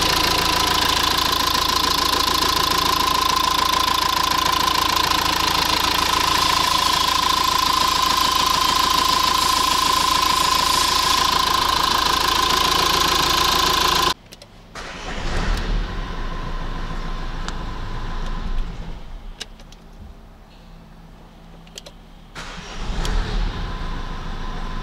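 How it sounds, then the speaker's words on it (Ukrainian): Renault Master 2.3 dCi M9T diesel van engine, 323,000 km on the clock, running loud and steady for about fourteen seconds before cutting out, followed by quieter clunks and mechanical handling noises. "пробуємо збирати передню частину автомобіля і запускаємо ще раз."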